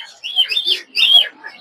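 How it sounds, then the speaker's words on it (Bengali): Golden finches chirping at a Mirpur bird market: two short bursts of high, bright twittering notes, close and clear with a brief pause between. "গোল্ডেন ফিঞ্চ গুলো।"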